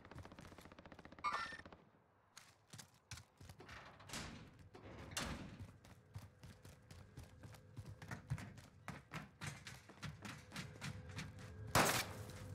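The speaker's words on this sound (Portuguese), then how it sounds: "Shots right side. Oh yeah, too many shots." Gunfire in the game Warzone: repeated sharp shots and bursts, some clustered in rapid volleys and others single, at varying distances, with quiet stretches in between.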